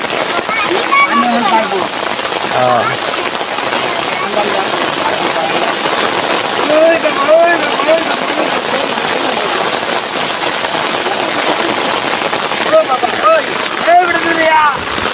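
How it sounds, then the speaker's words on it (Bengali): Steady rain patters down over a riverside village beside the Mahadev river, a constant wash of sound with birds chirping faintly and a few brief noises in between. "বৃষ্টি হচ্ছে"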